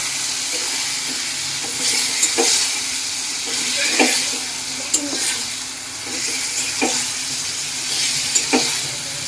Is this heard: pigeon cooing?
no